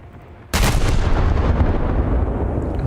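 A battleship's naval guns fire in a game, a sudden heavy blast followed by a long, loud rumbling roar that holds steady to the end.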